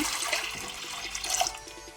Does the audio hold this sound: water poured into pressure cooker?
yes